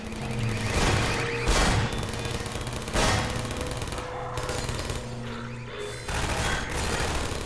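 Automated turrets firing in Half-Life 2 amid heavy combat, dense rattling bursts with several heavy booming hits, loud and continuous with brief gaps, no talking.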